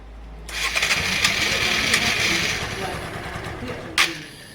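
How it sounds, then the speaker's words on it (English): A Honda Varadero 125 motorcycle engine, fitted with new spark plugs, cranks and catches, then runs steadily at close range with a sharp blip near the end. "Next start up, let's see if it starts up easier."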